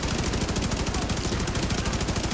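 Rapid, continuous automatic gunfire rattles through a firefight in The Division 2 video game, dense and loud with a steady rapid-fire rhythm and no pause.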